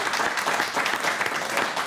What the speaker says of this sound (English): So big anticipatory round of applause for Muireann.